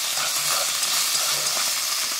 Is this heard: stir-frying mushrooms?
yes